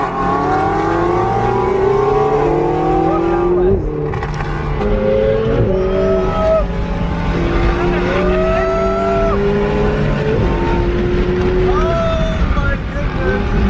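Loud supercars drive along a road in Dubai, their engines roaring and rising in pitch as they accelerate past, a steady, dense wall of exhaust noise with overlapping revs throughout.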